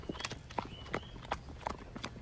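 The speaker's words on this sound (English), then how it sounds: "I'm now going to pick up Trot, so get on, boy" A horse trots, its hooves striking the ground in a quick, even clip-clop rhythm, close and clear, with no voices over it.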